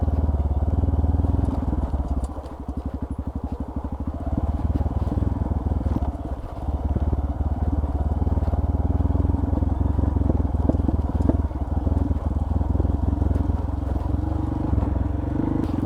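A Honda CRF150L motorcycle rides over a badly broken road near a caldera in Bali, giving a continuous low engine drone mixed with rattling and clattering as the bike bounces over the rough surface.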